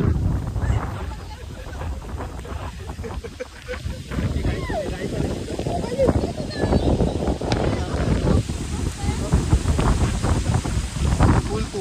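Strong storm wind buffets the microphone on the Konkan coast during sudden rain, with crashing waves rumbling continuously and loudly for about twelve seconds.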